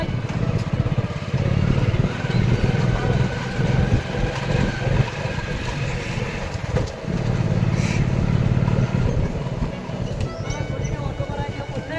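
A motorcycle riding along a road with a native dog perched on the front, carrying a steady close engine drone and wind rumble, with voices talking over it.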